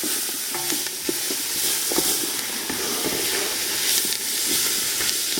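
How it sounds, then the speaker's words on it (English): Vegetables fry steadily in a gumbo roux, a continuous close sizzle and hiss broken by occasional scrapes and knocks as they are stirred in the pot. "Just stir these up."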